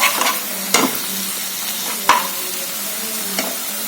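Masala paste sizzles steadily in hot oil for Amritsari chole while a spoon stirs it, with a few sharp scraping clacks against the pan over the soft frying hiss.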